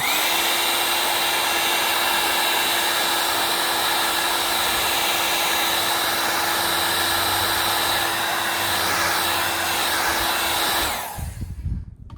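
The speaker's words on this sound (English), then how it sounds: "Now another way to do it is to use a hair dryer." A hair dryer heating plastic irrigation pipe blows in a steady, loud whir with a constant hum for about eleven seconds, then cuts off and winds down.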